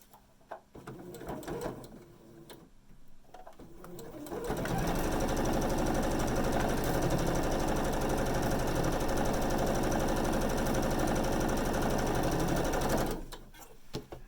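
A sewing machine stitching long quilt seams on a spinning star block: a couple of quieter starts, then a loud, close, steady whirring run for about eight seconds before it stops, with no one speaking.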